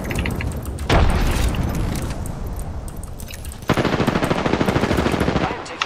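Frag grenade explosion and rapid gunfire in Apex Legends, a loud boom near the start followed by sustained automatic fire, another burst of rapid shots in the second half, with brief talk underneath.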